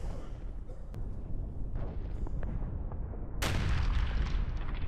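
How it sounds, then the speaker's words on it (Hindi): Explosions from Israeli army strikes on Hamas fighters hiding in tunnels roll on as a steady, heavy rumble, with a louder broad blast bursting in about two-thirds of the way through and sustaining to the end. "चुन चुन कर धमाके किए जा रहे हैं।"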